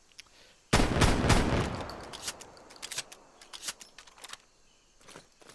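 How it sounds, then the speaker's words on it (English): A Gallo SA-12 shotgun fires in a video game, a loud burst of several rapid blasts followed by scattered mechanical clicks and shell clatter. "so now we're on to the Gallo SA-12,"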